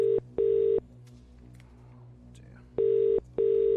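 A telephone call rings out through the line during a live radio show: two pairs of steady electronic ringback tones open and close the clip, clear and loud, with a quiet gap of faint background noise between them.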